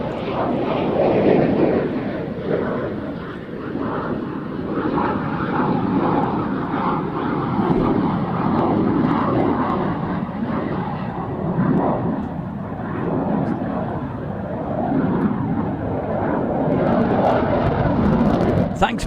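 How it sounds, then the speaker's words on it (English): An F-15 jet fighter flying display at the Royal International Air Tattoo air show, a broad, continuous engine rumble that stays steady and fairly loud throughout. "The Royal International Air Tattoo, and a few quick highlights from 2007. including an F-15 display coming up in just a moment."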